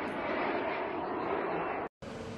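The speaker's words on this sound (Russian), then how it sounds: "О, полетел еще один беспилотник." Jet-powered drone passing overhead, a steady, loud broadband roar that holds throughout and breaks off briefly near the end.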